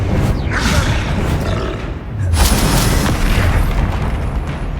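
Loud booming blasts from the Confringo spell in Hogwarts Legacy, two heavy explosions with rumbling roars and whooshing bursts filling the clip, dense battle effects throughout.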